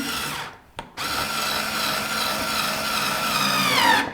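A Roto-Bit electric screwdriver whirs steadily as it drives square-drive screws, loud and close, with a brief stop and restart near the beginning before the motor runs continuously.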